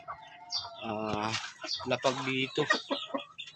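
Pet chickens in a coop cluck close by while someone talks over them, several short clucks mixed with his speech across the stretch.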